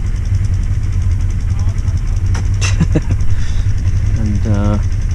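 Several quad bikes idle together on the beach at Lara Beach, Cyprus: a steady low engine rumble runs throughout, with voices talking over it.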